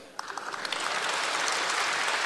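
A large audience at a comedy crosstalk show in Toronto breaks into applause, a dense burst of clapping that swells quickly and carries on steadily, fairly quiet and without talk.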